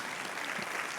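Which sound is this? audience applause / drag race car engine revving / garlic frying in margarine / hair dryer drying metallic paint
audience applause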